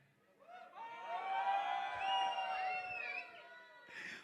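Guests cheer, whoop and shout at a sangeet celebration, a loud swell of crowd noise with high voices rising and falling for several seconds before fading, with a brief burst at the end.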